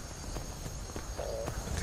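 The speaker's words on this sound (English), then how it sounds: "I think this is my horse." Horse hooves clip-clop at a steady walking pace in the Skyrim VR video game, close and fairly clear over a low background hum, with no talking.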